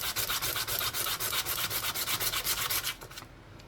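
Very fine, nearly worn-out sandpaper rubs over a coin ring made from a Yugoslav 100 Dinara coin, giving a steady rhythmic scratching of quick back-and-forth strokes that stops abruptly near the end.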